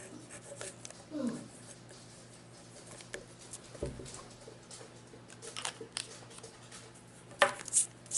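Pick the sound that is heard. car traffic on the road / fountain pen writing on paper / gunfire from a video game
fountain pen writing on paper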